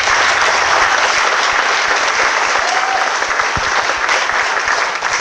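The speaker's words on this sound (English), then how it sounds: "I want to have another big round of applause for our panelists" An audience at a Q&A panel session applauding the panelists, dense sustained clapping that holds steady and loud throughout, with no speech over it.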